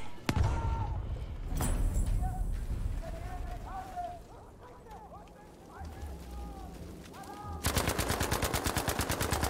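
Gunfire in Battlefield V: an opening sharp shot, then a noisy battlefield wash with shouted voices, ending in a loud, rapid machine-gun burst of evenly spaced rounds.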